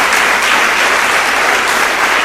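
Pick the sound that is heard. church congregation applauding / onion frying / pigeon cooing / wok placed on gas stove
church congregation applauding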